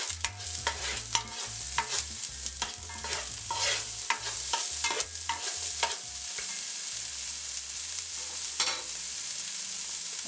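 Onion and garlic stirred in a pot for breadfruit oildown, a bright frying sizzle under repeated scraping strokes of a spoon against the pot, close and busy, with a low hum running beneath and no talking.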